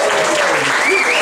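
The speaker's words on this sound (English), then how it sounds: "Huge round of applause for yourselves" Audience applause fills a comedy night at The Vic in Swindon, a dense, steady wash of many hands clapping at close range, loud throughout the short burst.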